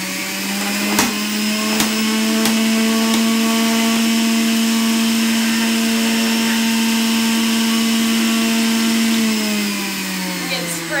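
A juicer runs on high, grinding tough ginger with a loud, steady motor whine that holds for about nine seconds before winding down slightly, with a few brief knocks near the start.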